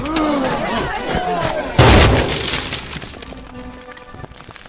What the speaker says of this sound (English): Douglas, give me a grenade.